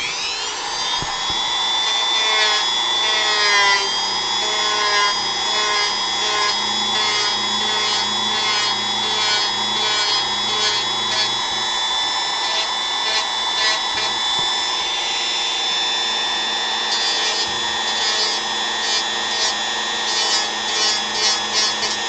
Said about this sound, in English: It is the sanding thing.